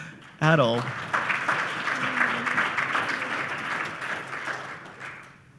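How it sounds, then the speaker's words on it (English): An audience at a panel discussion on Edmonton housing growth claps for a panelist. A brief voice comes first, then full, sustained applause that swells quickly and slowly thins out over several seconds. "a big round of applause to Adil"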